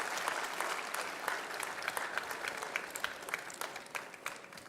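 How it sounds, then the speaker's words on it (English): An audience at an MBA and M.Tech graduation ceremony claps steadily for a male gold medal winner, a dense, continuous round of applause with sharper individual claps standing out, heard from a moderate distance. "should give the big round of applause because he is the only male candidate who gets the gold"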